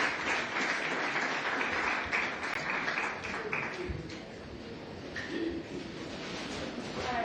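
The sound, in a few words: audience applause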